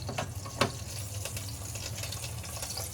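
Faint, steady sizzling of cumin and garlic tempering in hot oil for a saar curry, with a soft crackle and a small clink near the start.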